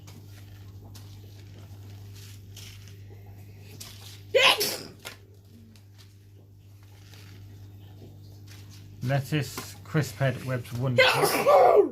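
A single sharp sneeze bursts out midway, with a person talking before and after it over a steady low hum.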